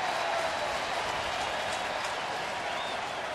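Steady roar of a large crowd cheering and applauding at a baseball game, a broad continuous wash of noise held at an even level throughout with no distinct voices standing out.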